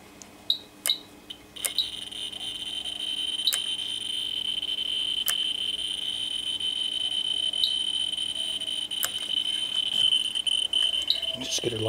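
A Ludlum Model 19 scintillation survey meter gives a steady high-pitched tone taking a background reading, with a few sharp clicks and ticks near the start and scattered through the stretch.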